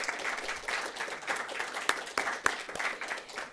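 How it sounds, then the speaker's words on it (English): Audience applause for Melissa Ohden after she shares her story, a steady, moderately distant round of many people clapping with a few sharper claps standing out near the front. "let's give a really great round of applause to Melissa Ohden"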